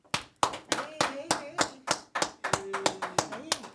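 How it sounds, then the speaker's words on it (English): A played clapping sound effect on a podcast gives a crisp run of about a dozen sharp, evenly spaced claps, with faint voices underneath. "can we get one of them clap things?"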